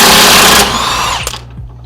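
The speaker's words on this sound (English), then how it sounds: "If you don't have a impact gun like this, you might have to take the cap off" A pneumatic impact gun rattles loudly in a fast burst while loosening the wheel hub nut on a VW Jetta during a wheel bearing replacement, then cuts off, leaving a quieter tail with a couple of faint clunks.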